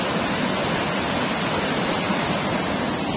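A full waterfall over many rocks roars steadily and loudly, a dense, unbroken rush of falling water with no other sounds.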